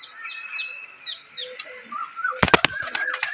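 Highflyer dab pigeons, with chirpy bird calls in the first seconds followed by a sudden close burst of sharp wing claps and flapping near the end.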